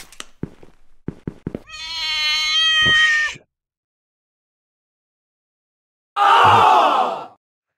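A cat in the game Feline Shenanigans gives two drawn-out, loud meows, separated by a few seconds of silence. A burst of short clicks and taps comes just before the first meow.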